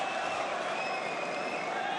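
Arena crowd at a Bellator 280 MMA fight roars in a steady, dense wash of cheering and noise that fills the whole stretch without a break.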